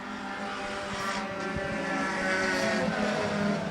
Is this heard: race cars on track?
yes